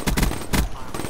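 M8A7 rifle from Black Ops 3 firing in a video game, with a few quick bursts of loud, close gunfire separated by short gaps, with no talking.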